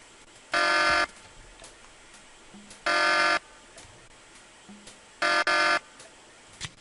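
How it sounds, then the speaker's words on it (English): An alarm buzzer in the detective adventure game Tex Murphy: Pandora Directive blares in three loud harsh bursts, each about half a second long and a couple of seconds apart, with the last one stuttering twice. "Sounds like I got that alarm turned off."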